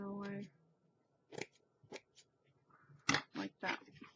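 Scissors trim fabric on an altered canvas piece in a series of crisp, close snips, a few single cuts then a quick cluster of three or four, with a brief tone at the start and quiet gaps between.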